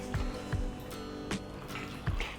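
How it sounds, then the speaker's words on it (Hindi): Water is poured into a gram flour mix for Gujarati kadhi, giving soft trickling and periodic gurgling splashes roughly every half second, close and quiet, with no talking. "अब हम इसमें डालेंगे पानी"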